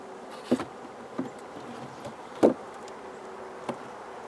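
Honey bees robbing honey from a destroyed colony buzz faintly and steadily, with a few louder buzzes as individual bees fly close past.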